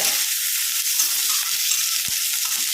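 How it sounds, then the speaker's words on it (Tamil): Onion sautéing in a pan for drumstick leaf thuvaiyal, a loud, close, steady sizzle and crackle of frying with faint stirring scrapes and no voices. "பாருங்க இப்பயே கொஞ்சம் வெங்காயம் நல்லா வதங்கிருச்சு"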